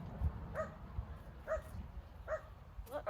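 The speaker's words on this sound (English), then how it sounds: "What are they barking at? Those dogs." Dogs bark off in the distance, four spaced woofs over a low outdoor background, faint and without talking.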